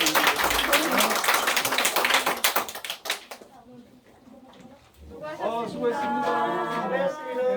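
A church congregation applauds together in dense, loud clapping that fades after about three seconds, followed by voices singing or speaking.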